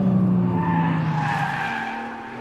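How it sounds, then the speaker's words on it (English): A Nissan GT-R track edition's V6 engine roars steadily at high revs on a track, loud, close and angry, its pitch sliding down as it passes. "this V6 is maybe not the most sonorous engine in the world, it just sounds angry when you get on it"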